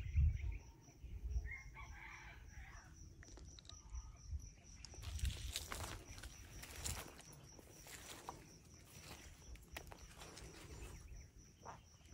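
Rooster crowing outdoors near dense brush during a trapping setup, heard at moderate distance amid steady insect and ambient noise, with faint scattered bird calls.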